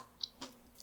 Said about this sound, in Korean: 지금 1년이 지난 오이지를 맛을 보고 있는 거예요.